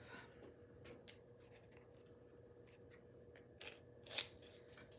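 Scissors cut and trim upcycled packaging paper in a quiet crafting setting, giving a few faint, soft snips and paper rustles, with one sharper, louder cut near the end.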